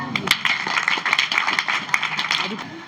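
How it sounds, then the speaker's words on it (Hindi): Students in a school classroom in Sultanpur clap for a classmate. Steady, close applause from a small group runs the whole time with busy overlapping claps, and faint voices sit beneath it. "इनके लिए ताली बजाओ।"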